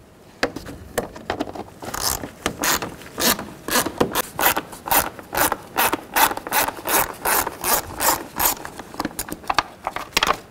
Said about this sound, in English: Take a T25 and loosen up all these screws around the airbox.